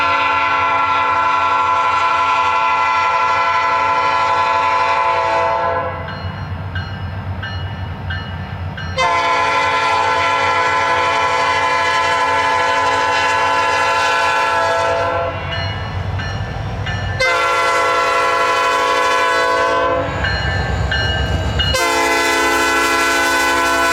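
Nashville & Eastern train NE01, hauled by an EMD locomotive, departs Lebanon, sounding long loud horn blasts in several separated bursts over a heavy engine rumble.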